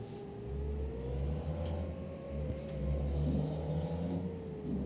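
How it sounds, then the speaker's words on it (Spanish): Engine of a Marco Polo G7 bus in a driving video game, a low, steady rumble with a faint rising whir as it pulls away, moderately quiet and continuous, with no voices. "Hoy estaremos en este bus occidental Marco Polo G7 y vamos acá a conducir."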